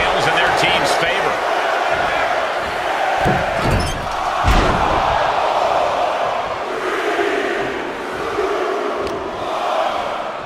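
Arena crowd at WWE Survivor Series 2025 WarGames counting down in a loud, sustained roar, with heavy slams and thuds from the ring breaking through and a commentator's voice over the top.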